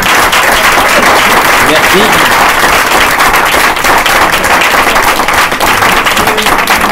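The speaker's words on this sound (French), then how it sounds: "Peut-être applaudir aussi." A lecture audience breaks into loud, sustained applause, a thick crackle of many clapping hands at close range, while a voice briefly speaks over it.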